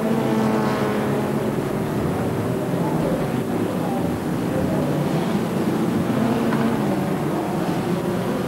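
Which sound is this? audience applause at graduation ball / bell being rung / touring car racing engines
touring car racing engines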